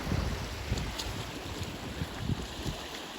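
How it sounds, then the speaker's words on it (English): Gusty wind blows by choppy water during a fishing trip, giving a steady close rush of buffeting noise on the microphone with low rumbling surges and no talk. "The wind's behind our backs"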